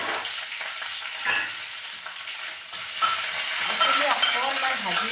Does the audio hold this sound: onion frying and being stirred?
yes